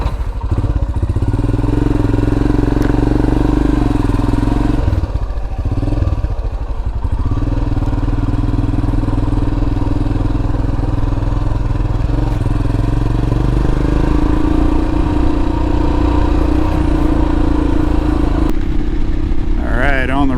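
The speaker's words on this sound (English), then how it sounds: "Riding the old school bike with choke and fuel valves" Royal Enfield Himalayan motorcycle engine running steadily with a constant low thump, close and loud throughout, with a brief dip partway and faint voices underneath.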